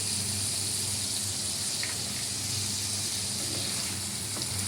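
Paneer frying lightly in white oil with turmeric, a steady soft sizzle and hiss in the pan, fairly close and continuous with no talk.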